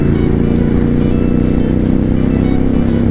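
A Triumph Scrambler 1200 motorcycle engine accelerates hard, with a loud, close, continuous exhaust roar and a steady pulsing throb throughout the short run, no speech.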